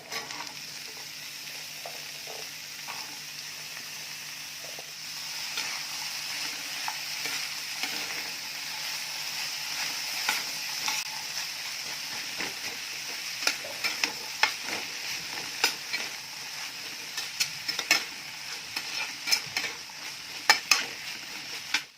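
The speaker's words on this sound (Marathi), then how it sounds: "मसाल्यामध्ये छान परतलेली आहे ती आता जो दुधी आपण चिरून धुवून घेतलेला आहे तो घालायचा" Chopped bottle gourd is sautéed in fried onion masala in a pan. A gentle sizzle carries on throughout, with frequent spoon stirs and scrapes that grow busier toward the end.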